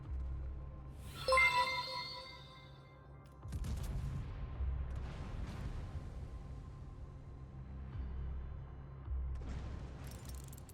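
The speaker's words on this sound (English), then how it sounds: "we actually have to start firing our guns to get this bonus though" Warship guns firing in World of Warships, with battleships Satsuma and Hannover: a ringing tonal blast, then heavy rolling booms and a sustained low rumble that rise and fade over several seconds, loud and broad.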